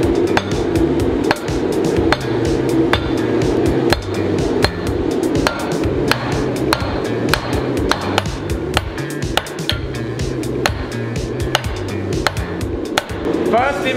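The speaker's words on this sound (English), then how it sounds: "We're actually gonna use a reasonably sized hammer to make a leaf." Heavy, regular hammer blows ring out as hot metal is forged into a leaf shape on a titanium anvil, about two strikes per second, close and loud, with a low background hum throughout.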